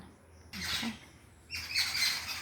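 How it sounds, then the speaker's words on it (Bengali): Small birds perched in a tree chirp in two short bursts of bright, high twittering, close and moderately loud, with a quiet gap between them and no talking. "এই যে কত পাখি বসে আছে গাছে"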